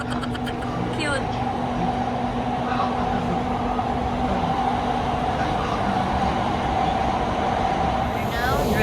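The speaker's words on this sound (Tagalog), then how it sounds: "We're now driving the train." A Doha metro train running, heard from inside as a loud steady rumble with a constant motor whine and rolling track noise throughout.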